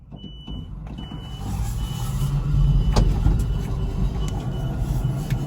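A mini truck reverses slowly, its engine rumbling steadily up close and growing slightly louder, with faint beeping and a sharp clunk partway through.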